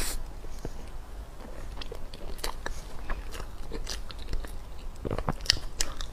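Sakura matcha snow skin mochi being bitten and chewed up close, with soft irregular crunches and wet mouth sounds spread unevenly over several seconds, no talking.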